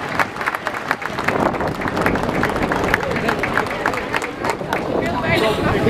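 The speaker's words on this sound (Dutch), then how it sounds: "wil ik graag een ongelooflijk groot applaus" An outdoor crowd at a King's Day morning ceremony in Dordrecht claps for volunteers, a sustained patter of applause with murmuring voices mixed in, moderately loud throughout.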